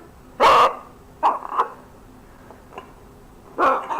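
A pet bird gives loud squawks indoors: one strong burst at the start, a pair of shorter calls in the middle, another loud call near the end, with quiet gaps between.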